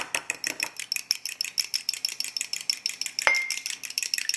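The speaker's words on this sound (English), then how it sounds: "I beat 1 egg." A fork or whisk beats a single egg in a bowl for an apple pie crust, giving a steady, rapid run of light clinks against the bowl, close and even, with no talking.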